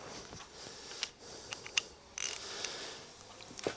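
A 19 mm socket wrench works a trailer brake shoe adjuster loose in a few faint, sharp clicks and ratcheting taps at close range, with quiet pauses between them.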